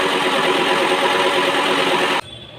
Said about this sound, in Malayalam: ഇനി മിക്സിയിലിട്ടൊരു അടിക്കാം